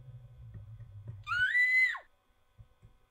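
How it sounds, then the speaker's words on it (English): A single shrill scream from The Crooked Man horror game rises sharply and breaks off after about a second, preceded by low rumbling ambience and followed by near silence with faint thuds. "That was the best scream ever."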